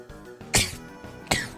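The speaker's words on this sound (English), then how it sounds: "I'm gonna sneeze." A person sneezes twice, two sharp bursts about three quarters of a second apart, close to the microphone, with faint background tones between them.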